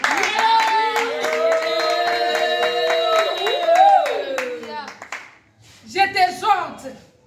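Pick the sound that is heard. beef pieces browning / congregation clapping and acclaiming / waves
congregation clapping and acclaiming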